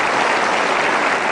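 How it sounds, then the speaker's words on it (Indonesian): Steady, dense applause from a studio audience on an Indonesian talk show fills the whole moment, loud and continuous with no voices standing out. "Boleh tepuk tangan untuk periode kedua."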